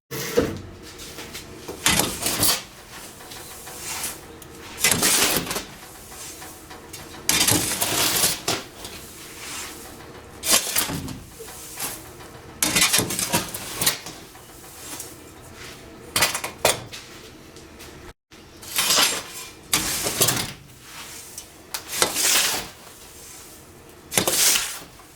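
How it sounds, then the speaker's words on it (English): Greenhouse soil of topsoil, peat moss, vermiculite and perlite is mixed in a container, giving repeated scraping, rustling and crunching bursts at an irregular rhythm, close and fairly loud. "Now we're going to mix it together."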